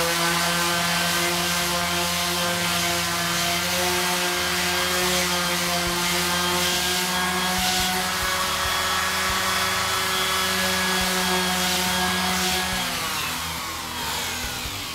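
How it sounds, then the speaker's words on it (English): A power sander grinds steadily and loudly against a car dashboard being shaped, holding a continuous buzzing drone with a strong hum for the whole stretch before easing slightly at the end. "I'm going to try to use the sander and see if it will smooth out."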